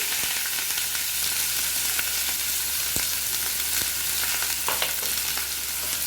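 Chopped onions and asafoetida fry in a pan with a steady, close, even sizzle and crackle, with a few sharp pops and clicks scattered throughout and no talking.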